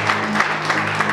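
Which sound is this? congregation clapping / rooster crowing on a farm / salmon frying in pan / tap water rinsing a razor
congregation clapping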